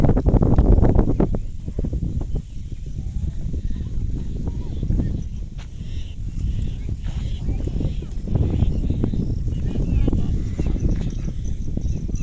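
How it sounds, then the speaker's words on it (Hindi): Wind gusts buffet the microphone across village fields in Punjab after heavy rain, a rough low rumble rising and falling continuously, with someone talking over it. "हवा चल रही है।"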